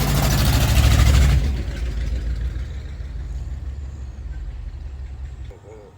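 A restored motorhome's engine pulling into a driveway: a loud rumbling surge that eases into a steady, lower idle and keeps running, fading slightly at the end, with faint talk in the background.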